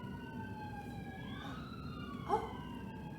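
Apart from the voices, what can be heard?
ambulance siren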